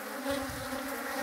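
Honeybees buzzing around a hive, a soft steady drone of many wings close by, faint and continuous with no voices.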